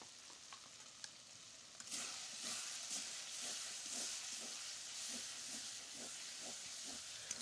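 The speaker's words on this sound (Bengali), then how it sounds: "আদা রসুন ভালো করে ভেজে নিয়ে জিরে হলুদ লঙ্কা দিয়ে দেবো" Ginger, garlic, cumin, turmeric and chili fry in hot oil, a sudden burst of sizzling hiss that then holds steady and close, with rhythmic stirring scrapes of a spoon through the pan.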